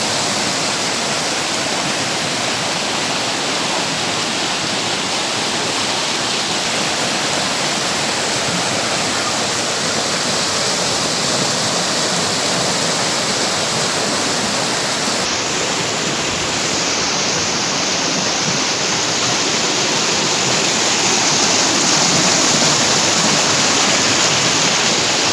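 A stream flows beside a coffee garden on farmland at Đăk Ton, its water rushing in a loud, steady wash that stays close and unbroken throughout.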